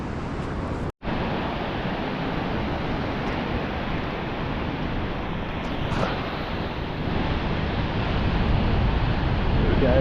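Steady roar of ocean surf breaking on a fishing beach, with swells of about 1.5 meters rolling straight in. The wash is loud and continuous throughout, with wind noise on the microphone and a brief dropout near the start.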